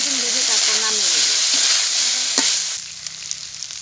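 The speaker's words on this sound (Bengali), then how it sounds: "আরও কিছুক্ষণ ভাজতে হবে।" Cauliflower florets frying and being stirred in a pan, a steady close sizzle with scraping strokes that thins out toward the end while a faint voice murmurs in the background.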